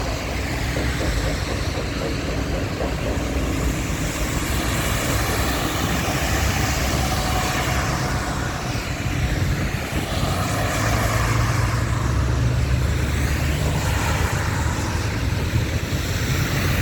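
Traffic sits jammed on a flooded road in Riyadh, Saudi Arabia, during heavy, cold rain. Engines and rushing water blend into one loud, unbroken roar that lasts throughout.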